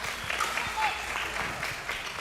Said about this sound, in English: And the crowd really getting into this one